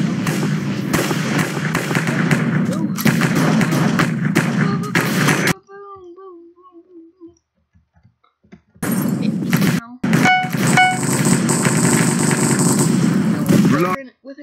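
Video game combat with smoke and frag grenades thrown amid heavy gunfire, loud sustained shooting that cuts to a quiet stretch of faint tones, then resumes with blasts and rapid fire.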